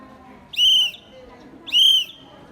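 Two long, shrill Morse code whistle blasts separated by a short pause, clear and close, with nothing else in between.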